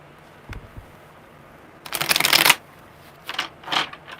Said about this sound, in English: That was a really funky shuffle.